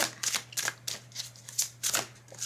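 Tarot cards are shuffled and drawn in quick, crisp bursts of riffling and flicking, close and fairly loud, over a low steady hum.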